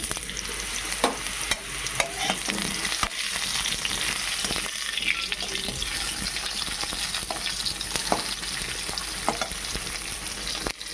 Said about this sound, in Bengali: এখন দিয়ে দিলাম আম।